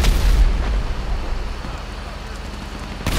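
Heavy booming blasts from a tank firing and explosions in Grand Theft Auto V, a loud deep burst at the start, then a sustained roar and rumble, with a second sharp boom near the end.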